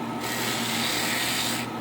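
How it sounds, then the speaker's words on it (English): Steady, close abrasive rubbing of a sanding mop on wooden trim, one continuous pass of under two seconds with no talking. "it'll do a great job of sanding that trim"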